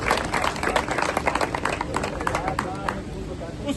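Audience clapping at a stage performance event in Lahore: dense, steady rattling applause throughout, heard under a voice speaking over it.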